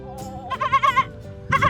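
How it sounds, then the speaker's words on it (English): Sheep bleating on a hillside hike near a volcano outside a national park in Rwanda, two or three wavering, quavering bleats close by, the second cluster longer, with quiet pauses between and no talking. "Apparently these are sheep."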